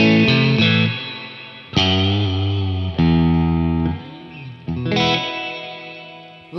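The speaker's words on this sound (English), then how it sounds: "That is a lovely spring reverb" An electric guitar played through an MXR reverb pedal on a spring reverb setting rings out in sustained chords and notes, each swelling with a lush, splashy tail that blurs into the next, close and clear.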